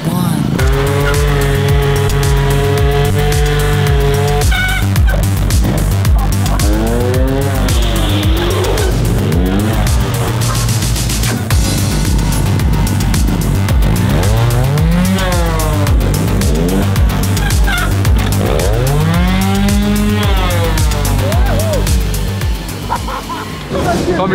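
Motorcycle stunt run at a race track during a DTM touring-car finale at the Norisring, with loud engine revving and repeated rising tire squeals and skids, the bike's noise continuous and close, under a steady wash of crowd and track noise.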